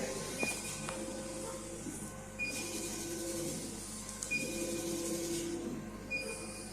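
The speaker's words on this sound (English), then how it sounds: "by moving this mouse, the head of the laser is moving over the workpiece" The head of a laser engraving machine travels over a workpiece in a manufacturing workshop, giving a steady mechanical hum with recurring thin whining tones as it moves back and forth.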